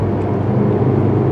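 A 2023 Mercedes-AMG C43 sedan's exhaust in Sport mode gives a loud, steady, deep rumble, close and continuous, with no voices.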